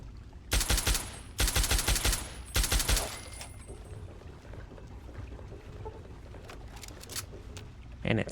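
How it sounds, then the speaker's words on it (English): Assault rifle fire in Fallout 3, three short bursts of rapid shots close together, then a quieter stretch of faint game ambience. "Yeah, this is a pretty good assault rifle."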